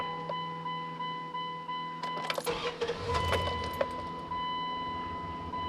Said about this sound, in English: Let's go ahead and shut it off and start it back up to see how it works.